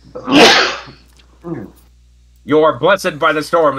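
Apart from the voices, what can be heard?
sneeze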